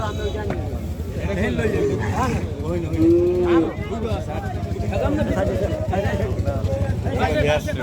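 A cow moos once amid a busy crowd of overlapping voices at the Lebukhali cattle market before Eid al-Adha, with steady background chatter throughout.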